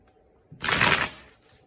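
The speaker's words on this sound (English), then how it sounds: "Let me shuffle real quick." A quick riffle of tarot cards being shuffled, a single brief papery burst in otherwise quiet surroundings.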